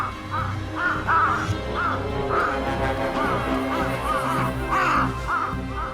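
Crows in Tokyo repeatedly caw while mobbing a mother goshawk, harsh calls arriving in irregular bursts, some overlapping, with a steady low background hum beneath them.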